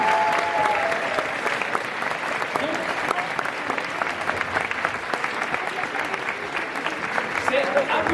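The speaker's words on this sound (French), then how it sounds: "Vous pouvez applaudir, n'hésitez pas." Audience applause in a hall at the Lyon Esport 2019 LAN event, a dense sustained clapping from a large crowd filling the whole stretch, with some voices mixed in.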